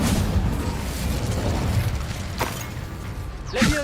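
The Incendio fire spell cast in Hogwarts Legacy, with a rushing, crackling burst over a steady low rumble, a sharp flare midway and a louder whooshing blast at the end.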